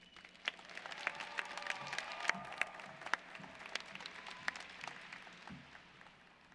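Applause from a graduation audience for a student's commencement speech, a steady wash of many hands clapping with sharper individual claps standing out, moderately distant and fairly faint, with no talking over it.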